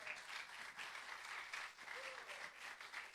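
A studio or church audience applauds a guest on a live broadcast. The steady clapping is faint and distant, with a voice briefly audible underneath.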